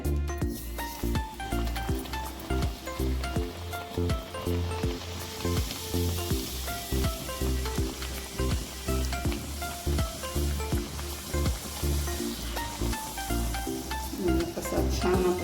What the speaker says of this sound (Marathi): आता आपला हा घारगा तळायला तयार आहे आपलं तेलही तापलं